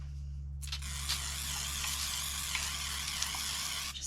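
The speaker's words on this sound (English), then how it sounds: "I'm going to spray it with olive oil" A continuous hissing spray from an olive oil cooking spray can onto squash, close and steady for a few seconds with small pulses, over a low hum.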